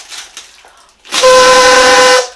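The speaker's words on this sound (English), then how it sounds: "Sounds like a train horn." A loud, sustained horn blast like a train horn sounds for about a second after a brief moment of background noise, steady and harsh, then cuts off abruptly.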